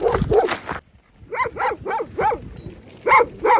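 Sheep-guarding dogs, including a Karabaş, bark out in the countryside: a quick run of sharp barks, then a short pause, then two more, fairly close and loud.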